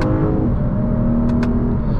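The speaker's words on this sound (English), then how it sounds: "it just has this race car like V8 sound to it that Lexus's V8s are kind of known for" Lexus IS500 F Sport Performance V8 in a 2024 car, a loud, steady, deep engine drone under load with a faint high chirp near the end, and no voices.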